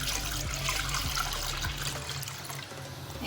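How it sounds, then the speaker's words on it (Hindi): One litre of milk poured from a container into a pan, a soft steady liquid stream gurgling for a few seconds and then tapering off, quiet and close with no talking. "उसके अंदर हम डालेंगे ये 1 लीटर दूध"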